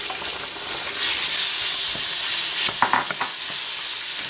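Prawns sizzle steadily in a hot pan with oregano for garlic lemon pasta, a continuous bright frying hiss with a few soft stirring clinks, close and alone.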